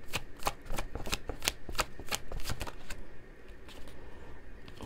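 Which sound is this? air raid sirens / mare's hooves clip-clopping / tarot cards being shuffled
tarot cards being shuffled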